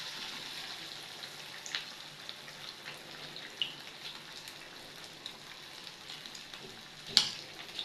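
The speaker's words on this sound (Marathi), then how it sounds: "हे छान पद्धतीने असं जे कोटिंग आहे त्याला मिक्स करून त्याच्याबरोबर तेलात सोडायचं आहे एक एक करून आपल्याला" Coated chicken lollipop wings frying in hot oil, a steady faint sizzle with small pops and crackles throughout and one sharper crackle near the end, no voices.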